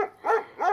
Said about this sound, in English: They were barking louder and louder.